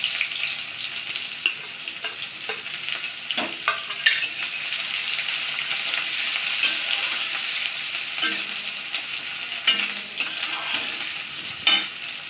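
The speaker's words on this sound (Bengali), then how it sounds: "পেঁয়াজটা একটু ভেজে নিই" Onions frying in hot oil with bay leaves and dried red chilies, a steady close sizzle broken by repeated scrapes and knocks of a spatula stirring the pan, with no talk.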